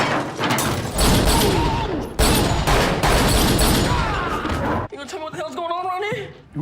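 Gunfire crackles in a movie shootout, with dense repeated shots and booms mixed among loud music and effects, followed by a quieter stretch where someone speaks.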